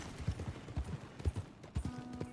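Horse hooves clip-clop in a steady galloping rhythm in Red Dead Redemption 2, loud and close, with a faint tonal hum entering near the end.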